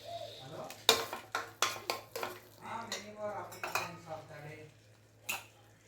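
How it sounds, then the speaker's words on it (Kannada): Homemade sambar powder stirred into okra gojju in a metal pot, a spoon scraping and clinking against the pot in a steady series of close, distinct knocks. "ಇದು ಹಾಕಿ ಚೆನ್ನಾಗೆ ಈ ರೀತಿ ಮಿಕ್ಸ್ ಮಾಡ್ಕೊಳ್ಳಿ ನೋಡಿ."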